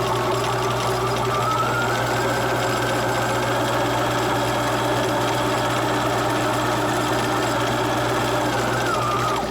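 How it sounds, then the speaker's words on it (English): A sewing machine runs steadily, edge stitching along the top of a child's fabric mask, a continuous close hum with a sustained motor whine that holds evenly throughout, with no talking. "raise the presser foot, pivot again, and then sew right across the top"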